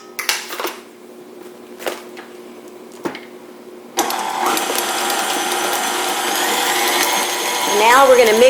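A stand mixer mixing banana bread batter starts up partway through, giving a steady close whir that rises toward the end. Scattered clicks and clatter come before it begins.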